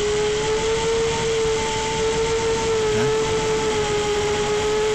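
A 6-inch Mark 4 analog FPV drone flies on a 4S battery, giving off a steady whining motor drone with a sustained tonal hum that holds at a fairly even pitch and moderate loudness, with no speech.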